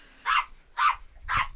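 Three sharp, evenly spaced dog barks in Red Dead Redemption 2, fairly close and loud, with no talk over them.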